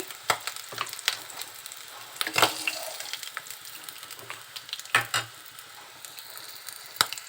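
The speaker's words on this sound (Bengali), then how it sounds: "একটা পরিমাণে পেঁয়াজ তো এগুলো আমি যতক্ষণ না কাঁচা গন্ধ চলে যাবে অতক্ষণ ভেজে নেবো" Chopped onions fry in a pan of oil for an egg curry, giving a steady crackling sizzle with sharp spits and pops and occasional stirring scrapes, close by with no talking.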